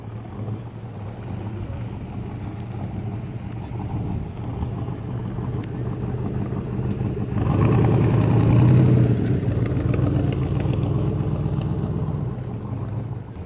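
A Jaguar E-Type engine idles steadily at a motor show in Avignon, a low throbbing hum that swells louder for a few seconds midway before settling back to a constant rumble, with no talking.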